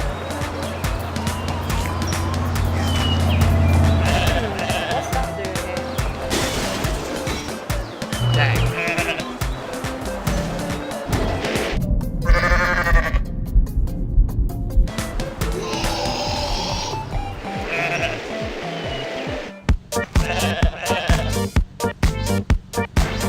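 Goats bleat repeatedly in the video game Goat Simulator, loud wavering cries scattered over a busy mix of game effects, thuds and music across a long stretch.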